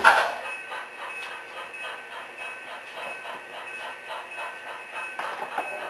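Model train cars roll along an HO-style layout track, a steady soft clickety-clack of wheels over rail joints with faint hiss, continuous and moderately close with no talk.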